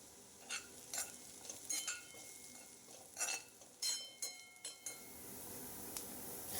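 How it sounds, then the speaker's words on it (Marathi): Onion and garlic frying in a pan with dry spices such as turmeric, red chilli powder and salt, stirred with scraping clinks over a steady low sizzle, close and fairly quiet, no talking. "कांदा व्यवस्थित परतल्यानंतर त्यामध्ये ड्राय मसाले घातले"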